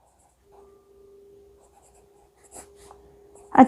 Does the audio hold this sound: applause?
no